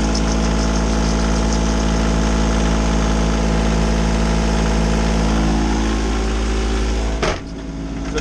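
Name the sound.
sailboat engine running, belt soaped to quiet it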